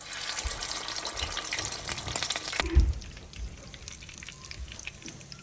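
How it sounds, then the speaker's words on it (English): Steady crackling sizzle of corned beef stuffed dumplings frying in hot oil, loud at first then quieter after a brief clunk, continuing softly with no talking. "let's go ahead and fry these until they're golden brown on both sides"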